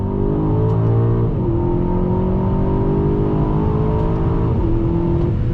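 A 2021 Aston Martin DBX SUV engine revs loudly and steadily after a downshift, its pitch climbing as it pulls hard, with a brief dip before rising again.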